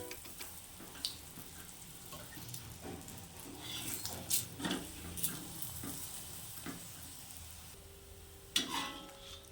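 Bhujia paratha roasting in oil on a pan gives a steady low sizzle, with scattered stirring and scraping clinks and one sharper knock near the end.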